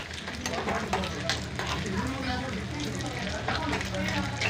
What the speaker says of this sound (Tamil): இந்த நெய் காயுது இதில் வந்து தேங்காய் கொத்தை வந்து போட்டுக்கலாம் முதல்ல இது நல்லா வதங்கட்டங்க